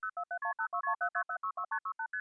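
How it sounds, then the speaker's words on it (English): Multi-frequency tones from the 1970s–80s telephone network sound as a fast even string of clean two-tone beeps, roughly a dozen in quick succession, heard alone at moderate level as a call connects to a recording. "if you listen in the background, you can hear the multi-frequency tones constantly going on"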